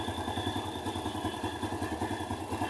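A motorcycle engine idles with a steady, rapid low putter and mechanical clatter, close and continuous throughout.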